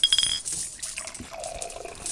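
Rum pours into a cup with a steady, close liquid splashing and trickling that runs throughout, alone, with a brief bright glassy ring at the start.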